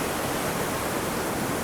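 A raging creek in the Eastern Sierra, its rushing, churning water forming a loud, continuous roar close by, with no voices.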